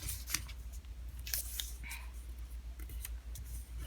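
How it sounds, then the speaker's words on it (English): Origami paper being folded and creased by hand, a few close, crisp rustles and sharp crinkling presses scattered over a quiet background. "we're going to take the edge and we're going to fold it to this middle crease"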